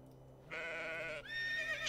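A goat bleats as a sound effect from an animal-sequence puzzle game, two wavering nasal bleats in a row after a quiet start, fairly loud and alone without any talking.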